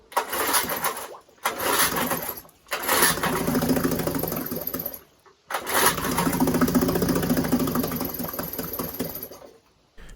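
A 1952 Johnson outboard engine, revived after 50 years and run in a bucket of water, sputters to life and runs loud and close in three long bursts, each cutting out briefly before catching again.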